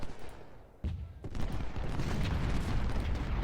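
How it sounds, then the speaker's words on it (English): Massed musket volleys from several Civil War infantry units firing in a strategy game, a rolling fusillade of overlapping crackling shots that starts with a sharp burst and continues as dense sustained gunfire, with a faint voice underneath. "I guess he did have 3 units firing on him"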